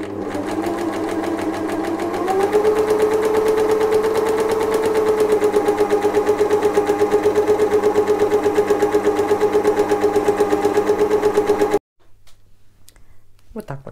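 A sewing machine finishes a seam on a knit jersey dress with a loud, close, rapid mechanical chatter that speeds up early, holds steady for about ten seconds, then stops abruptly before a few faint handling sounds.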